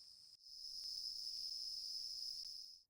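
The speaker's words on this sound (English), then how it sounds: "The air hums with cicadas." Cicadas in a rainforest hum in a steady, high, shrill drone that holds unbroken for nearly three seconds, alone and fairly faint, with a few tiny clicks in the background.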